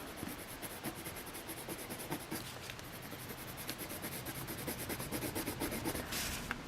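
Colored pencil scratching across bumpy, textured press paper, a soft continuous rasping and rubbing from close by, faint and steady, with quick back-and-forth strokes growing slightly louder toward the end.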